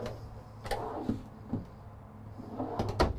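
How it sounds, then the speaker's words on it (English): Several soft knocks and clicks of drawers in a 2019 Winnebago View 24J RV being pushed shut and latching, spaced apart over low steady background noise. "they all do latch once you push them in"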